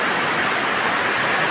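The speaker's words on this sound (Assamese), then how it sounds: "চাওক শাৰদীয় বৰষুণ ফ্ৰেণ্ডছ আহিছে" Autumn rain falls in a steady, dense hiss with no breaks and no voices, sounding close and even throughout.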